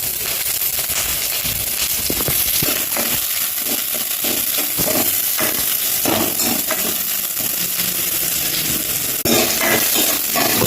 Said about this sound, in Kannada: ಈರುಳ್ಳಿಯನ್ನು ಸರಿಯಾಗಿ ಫ್ರೈ ಮಾಡುವ